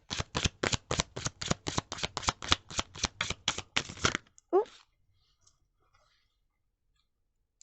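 Tarot cards are riffle-shuffled up close in a fast, even run of crisp flutters that lasts several seconds, then one brief soft sound and near silence.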